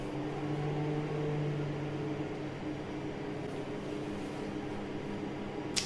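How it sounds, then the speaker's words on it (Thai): A microwave oven reheating stir-fried basil pad kaprao gives a steady, close mechanical hum with a low tonal drone that runs throughout and ends in a faint click. "ตอนนี้รอของเวฟนะครับรอของเวฟ"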